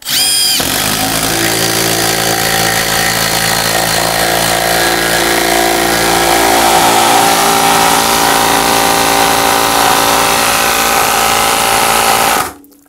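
A brushless impact driver with a hammer-and-anvil mechanism drives hard against resistance, giving a loud, continuous rattling hammer-whir for about twelve seconds before cutting off abruptly.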